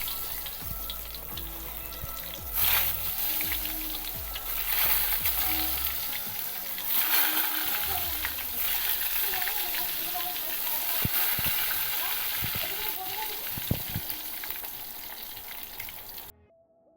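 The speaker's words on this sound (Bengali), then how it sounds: "তেলটা প্রচণ্ড গরম হয়ে গেছে আমি এর মধ্যে আস্তে আস্তে করে বেগুনগুলো দিয়ে দেবো" Steady hot-oil sizzle of eggplant slices frying, continuous and close, with occasional louder crackles and light clatter as pieces are added.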